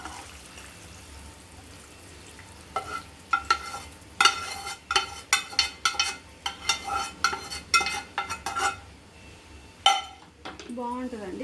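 Cooked pulihora rice is stirred and folded with tamarind paste in a pot, a utensil scraping and clattering in a steady run of uneven strokes up close.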